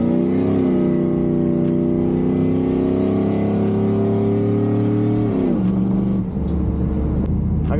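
A 5.3 V8 single cab pickup truck drones at steady high revs, then shifts down in pitch as the engine note changes, loud and close throughout with no talk.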